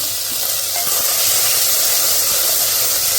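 Onions hitting hot oil in a pan give a loud, steady sizzle and hiss that runs for the whole stretch, with faint stirring scrapes mixed in and no talking.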